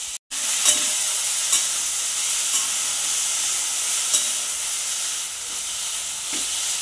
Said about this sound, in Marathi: ह्याच्यामध्येच टोमॅटो टाकून आपण 2 मिनिट चांगला भाजून घेऊया।